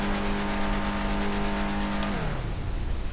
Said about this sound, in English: You can hear the blow off and a little bit of the spool up.